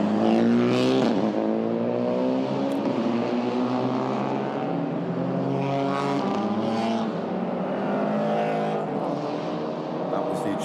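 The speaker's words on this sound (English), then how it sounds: "GR86 just going past your screen" A Toyota GR86 touring car racing in the Malaysia Touring Car Championship TP2000 class roars past with a rising then falling engine note, loud and close, under commentary.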